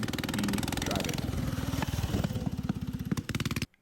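A Kawasaki 346cc single-speed three-wheeler engine runs steadily up close, its loud pulsing chug continuous with slight throttle changes before cutting off abruptly near the end.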